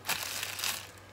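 A plastic bag crinkles briefly and closely as aftershave is wrapped while packing an order of handmade products.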